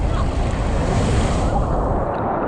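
Sea waves wash onto a beach in Valencia, a steady close surf rush mixed with wind buffeting the microphone, without talking.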